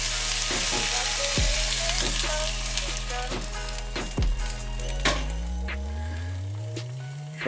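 An egg fries with zucchini in a pan over medium heat, making a loud, continuous close sizzle with occasional faint scrapes and clinks on top.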